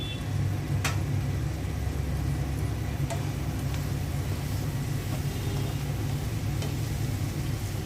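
Boiled cauliflower and potato go into a pan of well-fried spice masala for a fish curry, giving a steady, close frying hiss throughout with a few brief utensil scrapes and clinks.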